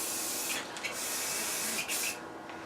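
A Ford F-150 fuel tank gets a spray coating, heard as a close, steady hiss in short bursts with brief pauses between passes, alone and without talk.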